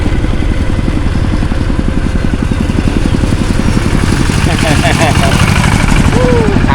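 A two-wheel tractor engine runs close by in a rural village in southern Laos, chugging with a steady, rapid single-cylinder beat while someone talks over it.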